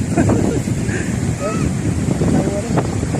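Strong sea waves wash onto a sandy shore, a steady roar mixed with heavy wind buffeting the microphone, close and loud throughout the short stretch.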